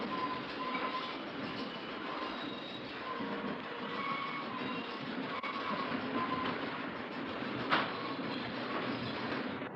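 Key System electric train on third rail heading toward the Bay Bridge, a steady close rumble of wheels and motors running continuously with faint rail clicks and a brief sharp clank near the end.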